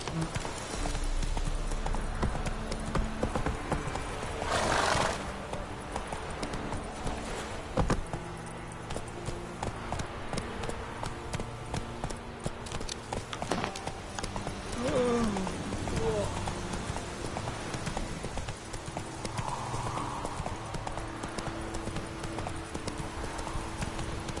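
A horse in The Witcher 3 video game gallops with rapid, rhythmic clip-clop hoofbeats under game music and ambience, a voice speaking over it at moments.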